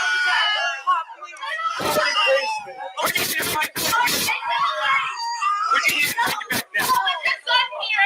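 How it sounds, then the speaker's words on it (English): Women and children scream amid a chaotic confrontation in which a man is tased, shrill cries overlapping with shouting voices and scuffling bursts, loud and close, with frantic talk throughout. "Women screaming, children screaming"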